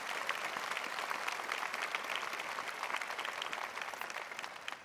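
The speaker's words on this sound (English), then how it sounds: "Give them a round of applause." An inaugural address crowd applauds steadily for farmers, a dense, continuous clatter of many hands at moderate distance for the full stretch, with no voices over it.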